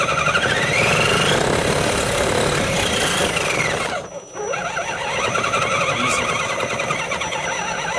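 A radio-controlled scale car drives along, its small motor whining steadily with rising and falling pitch sweeps, loud and continuous, dipping briefly about halfway before picking back up.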